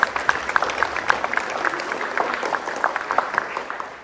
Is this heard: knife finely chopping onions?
no